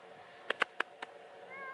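A cat gives a quick series of three or four short, soft meows close by, followed by a quiet, faintly humming background.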